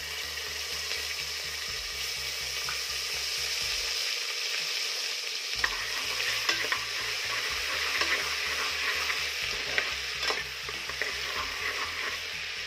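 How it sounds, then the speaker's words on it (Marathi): Ginger garlic paste frying in hot melted butter and oil for pav bhaji, a steady sizzling hiss with stirring scrapes and small spattering pops running throughout, nobody speaking. "आलं लसूणची पेस्ट छान बटर आणि तेलामध्ये परतून घ्यायची आहे"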